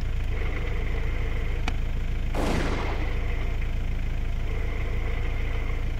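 A car idles steadily, then a sharp mechanical noise bursts out as the clutch is released, a short grinding rasp over the engine hum, close and clear, signalling a worn clutch.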